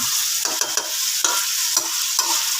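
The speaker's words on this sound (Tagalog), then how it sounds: "Ayan, igisigisa lang natin." Fish head being sautéed in a hot pan: loud, close sizzling broken by quick, repeated scraping strokes of a stirring spoon.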